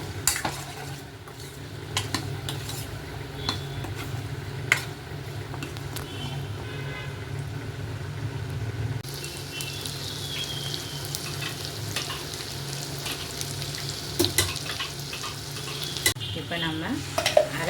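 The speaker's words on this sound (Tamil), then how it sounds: "இப்போ நல்லா பன்னீர் வந்து பட்டரில் ரோஸ்ட் ஆகி வருது" Cubes of paneer roast in butter in a pan over medium flame, giving a steady, close sizzle with occasional clinks and scrapes of a utensil throughout.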